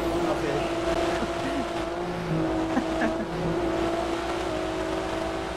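A car engine droning steadily as a vehicle is driven in GTA V, a sustained hum with slight pitch shifts while the driver eases off the throttle, heard under ongoing casual conversation between players.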